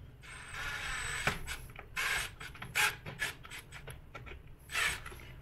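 Tightening a hose clamp on a Bafang mid-drive e-bike motor gives close scraping, ratcheting and rubbing sounds in uneven bursts over a faint background hiss.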